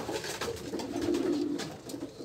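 Pigeons coo softly nearby, a low throaty rolling call swelling in the middle amid faint background noise and light rustling.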